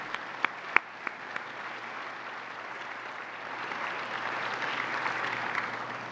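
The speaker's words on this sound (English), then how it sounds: "If we can have a round of applause for all of those" An awards-night audience at a tech awards event claps for Hall of Fame winners: a few sharp isolated claps at first, then dense applause swelling and holding steady from a crowd at moderate distance.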